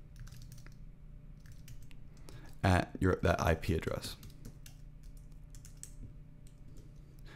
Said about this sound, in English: we're going to SSH by typing SSH.